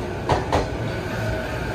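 A local train bound for Okutama pulls into Ome station on a single track, its wheels giving two distinct clacks over the rails before a steady low rumble continues.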